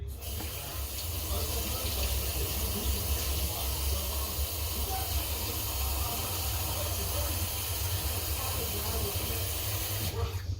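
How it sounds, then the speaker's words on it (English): Water runs steadily into a container, likely a measuring cup being filled with a quarter cup for a pickle-juice marinade, a continuous hissing rush of moderate loudness lasting several seconds with a low hum beneath. "I'll pour the water in here."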